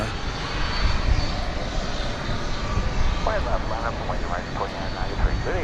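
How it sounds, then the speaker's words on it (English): A 25-year-old aircraft roars with a loud, steady engine rumble at DFW Airport during evening plane spotting, while someone talks over the noise. "a 25-year-old aircraft is that"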